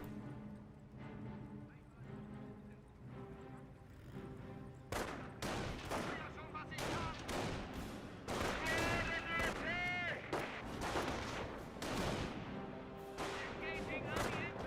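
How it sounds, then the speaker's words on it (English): Artillery and gunfire from a Company of Heroes real-time strategy battle, with sharp booming shots and bursts erupting repeatedly over a steady battlefield din, growing denser in the second half; a voice talks through much of it. "Thought I heard artillery firing away"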